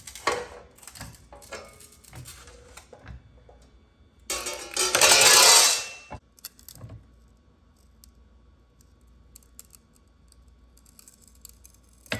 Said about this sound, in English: I'm just gonna cut these pieces out in my vintage Beverly shear.